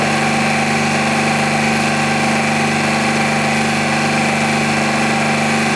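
A distributor spinning on a Sun distributor test machine at 1500 RPM gives a loud, steady mechanical hum and whir with a constant tone, with no talking over it.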